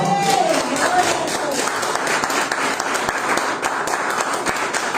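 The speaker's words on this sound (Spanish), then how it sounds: "Denle un aplauso al Señor" A church congregation breaks into sustained applause during a worship service, broad and continuous clapping with a faint voice or tone rising briefly over it near the start.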